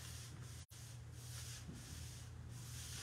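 Hemp salve furniture wax being rubbed by hand into the edges of a timber table: a soft, steady, quiet rubbing hiss over a low hum, broken by one very brief pause.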